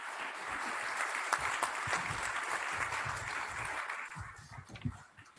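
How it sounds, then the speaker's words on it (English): Audience applause for a panel at an economic review event fills the room, steady clapping that holds at an even level for several seconds and tapers slightly near the end, with no voices over it. "Let's give our panel a round of applause."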